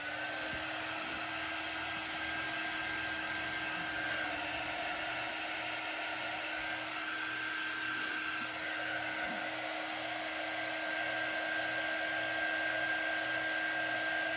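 A handheld heat drying tool blows steadily on wet chalk paste spread over a wooden 5x7 box frame, producing a constant close whirring hiss with a thin whine that runs unbroken for the whole stretch, no voices.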